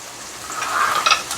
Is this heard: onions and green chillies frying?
yes